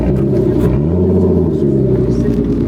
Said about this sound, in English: Hang on, rev it up a little bit.